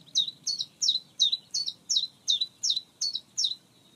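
Chiffchaff song: a steady series of about eleven bright, evenly spaced two-note chirps repeating at a regular rhythm, clear and fairly close, with no talk and a faint low background hum.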